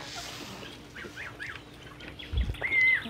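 Young chicks in their coop on a farm, giving soft high peeps and cheeps in quick scattered bursts over low background noise, with a brief louder thump near the end.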